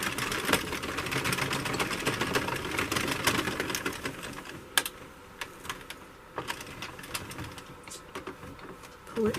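An Addi knitting machine being cranked to knit flat panels gives a dense, continuous mechanical clatter of rapid plastic clicks, with a few sharper knocks as it slows toward the end and a voice talking over it.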